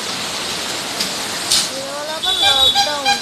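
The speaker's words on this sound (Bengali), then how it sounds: "দেখুন কি বৃষ্টি হচ্ছে।" Heavy rain falling in a morning market area, a steady broadband hiss throughout, with a voice speaking over it near the end.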